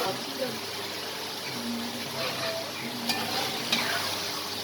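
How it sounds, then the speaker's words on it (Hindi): Mutton frying with spices in a pot for yakhni pulao, a steady soft sizzle with occasional stirring scrapes and light clinks. "गोश्त हमारा फ्राई हो रहा है।"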